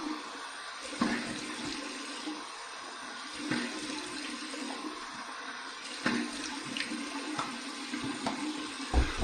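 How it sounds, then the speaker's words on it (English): Cold water running from a tap for a rinse after a shave, a steady splashing flow with occasional louder bursts and clatter nearby. "All right, here's my cold water rinse."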